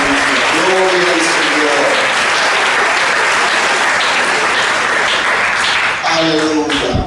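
A worship congregation claps for the Lord, a loud, continuous burst of applause that holds steady for several seconds while voices cheer and shout within it.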